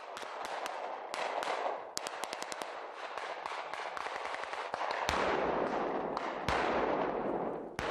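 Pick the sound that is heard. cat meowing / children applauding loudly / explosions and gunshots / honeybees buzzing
explosions and gunshots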